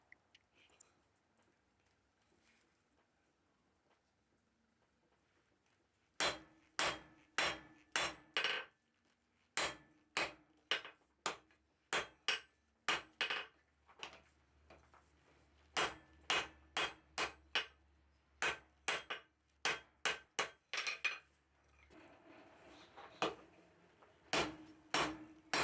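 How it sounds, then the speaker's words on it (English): A blacksmith hammers the end of a 1/2 inch square steel bar into tong blanks. After a quiet start, sharp ringing blows land in rapid rhythmic bursts, close and loud, with short pauses between groups of strikes. "I'm going to forge the end of the bar pretty much right"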